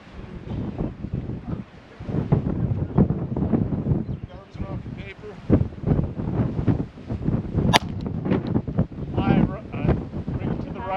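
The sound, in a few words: wind blowing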